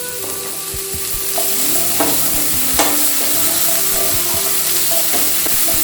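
Onion hits hot oil with ginger-garlic paste for chole masala, sizzling loudly and steadily close by while a spoon stirs with scattered scrapes and clinks, no one talking.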